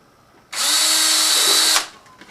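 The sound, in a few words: power drill drilling a hole in pot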